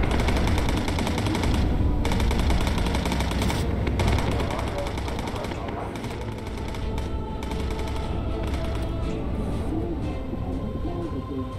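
Bomber crew gunners fire machine guns in the Bomber Crew video game during a raid on submarine pens at Bremen, a loud, continuous rattle of gunfire over steady engine roar for the whole stretch.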